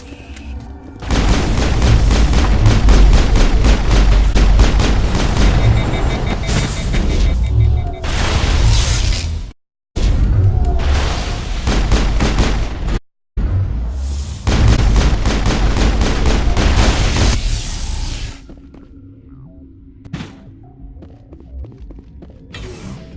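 Sustained loud firefight in the Mass Effect video game inside a lab, with dense booming gunfire and explosions filling most of the stretch, two abrupt dropouts, then a quieter tail with scattered thuds.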